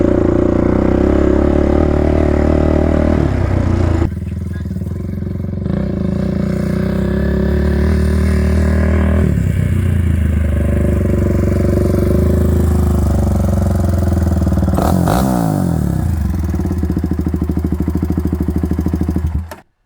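Quad ATV engine, a Raptor 686 or Predator 560 running a 15-tooth front sprocket, revving loud and close while being ridden, the pitch rising and falling through repeated throttle pulls with a sharp peak near the end.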